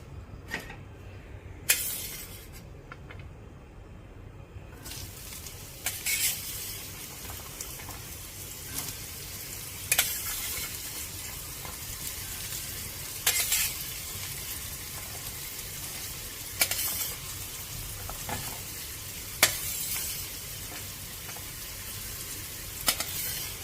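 Carrots frying in mustard oil for a Gujarati pickle make a steady, close sizzle across a long stretch, broken by repeated sharp clinks and scrapes of stirring at irregular intervals, with no voices.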